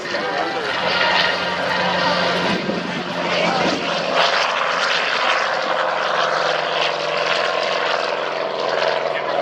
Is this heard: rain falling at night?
no